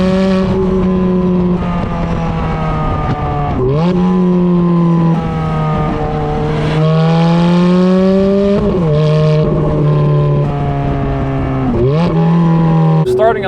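A Ferrari F430's 4.3-litre naturally aspirated V8 revs hard and loud up close, climbing in pitch through several quick gear changes, each marked by a sharp drop before the engine howls upward again.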